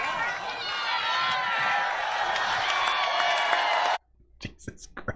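A rally crowd roars and cheers loudly and continuously for several seconds, then cuts off abruptly into near silence with a few faint scattered sounds.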